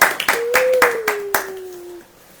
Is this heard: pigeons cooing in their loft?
no